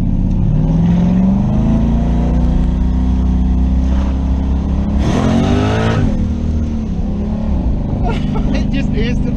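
Twin-turbo LS V8 in a third-generation Camaro accelerating hard on the road, a loud steady engine drone rising in pitch with a gear change midway, heard from inside the car under people's talk.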